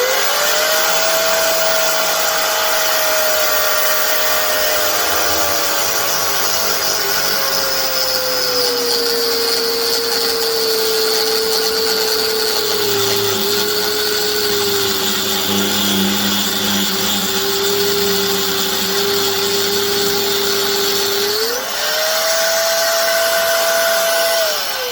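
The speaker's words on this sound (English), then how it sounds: "back out with the grinder" An angle grinder cuts into an electric motor's armature while it is being scrapped for copper, a loud continuous high-pitched whine with a shifting tone that dips as the disc bites and rises again near the end.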